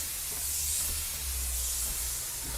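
A FEPPO 2-in-1 steam mop and handheld cleaner releases a continuous bright hiss of steam, steady and fairly close, with a low hum of the machine beneath it and no speech.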